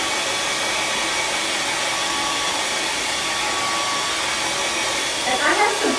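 A hair dryer blows steadily on wet paint, a loud, constant airy whoosh that runs the whole time, with a brief rustle near the end.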